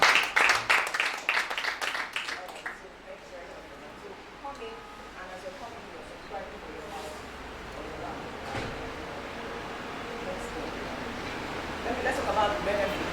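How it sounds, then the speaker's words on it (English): An audience at a business expo bursts into loud, dense clapping for a few seconds, then it tapers off into quieter room murmur and scattered handling noises. "Give P1 a big round of applause!"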